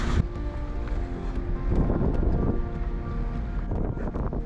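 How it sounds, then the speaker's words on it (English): Gusty wind blows in a harbor with a sailboat, buffeting the microphone in a rough, continuous low rumble with scattered knocks and rattles of rigging, fairly loud throughout and without speech. "It's a little bit windy in the harbor"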